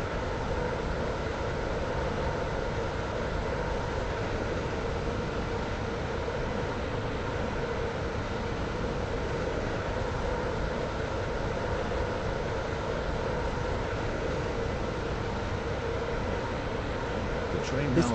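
A train in the Roblox game Stepford County Railway runs steadily, an unbroken mechanical drone and hum throughout, with a voice speaking over it.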